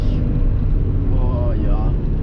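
A 1985 Porsche 924 with a 125 hp engine, downshifting and braking into a corner: a deep, steady engine drone inside the cabin, with the revs briefly rising and falling in pitch as the gears change, under a voice.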